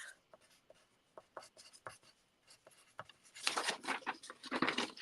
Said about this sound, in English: I'm going to write that down because I will forget.